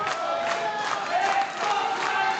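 A wrestling crowd at a tag-team match clamors and cheers in a dense, continuous roar, swelling and dipping with scattered shouts and whoops rising out of the mass.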